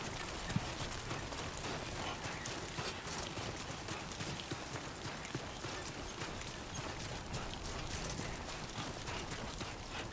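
Animal footsteps run in Death Stranding 2, a steady clip-clop of hooves kept up for the whole stretch, mid-distance, over a continuous wash of heavy rain.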